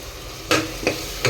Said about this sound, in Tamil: இதையும் ஒரு 2-3 நிமிஷம் நல்லா வதக்குங்க.